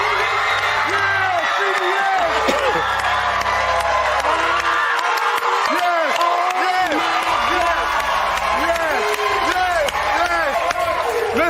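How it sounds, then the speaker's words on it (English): A crowd at a comedy tribute event cheers, whoops and claps, loud and sustained, with shouted voices and a speaker's voice running through the noise. "Crowd, let them know how we doing it out here tonight."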